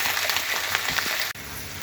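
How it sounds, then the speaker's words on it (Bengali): Onions fry in oil in a pan with a steady close sizzle and crackle that cuts off briefly before resuming. "পেঁয়াজ ভাজা হয়ে গিয়েছে"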